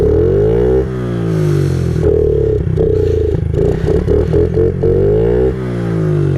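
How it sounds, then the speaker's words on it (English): A Honda CRF50 pit bike on snow and ice, its small engine revved hard again and again, close and loud, the pitch climbing and falling with each blip of the throttle. "No one's gonna care if I rev this thing up."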